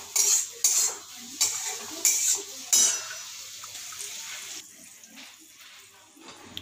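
Metal spoon scraping and clinking against a bowl while stirring batter, five quick rhythmic bursts followed by softer, slower mixing, close and clear.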